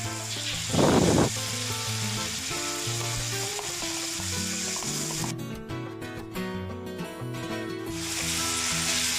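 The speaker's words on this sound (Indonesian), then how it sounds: "jika sudah panas, kita masukkan sambal kacang yang sudah dihaluskan tadi" Ground peanut sambal for cilok hits hot frying oil and sizzles loudly and steadily, with a brief louder spattering burst near the start, then continuous frying hiss with stirring scrapes throughout.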